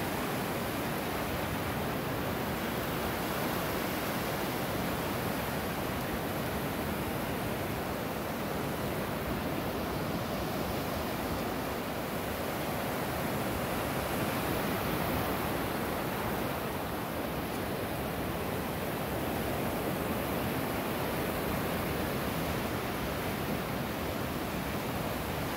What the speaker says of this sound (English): Water's very choppy today, you guys. Very choppy.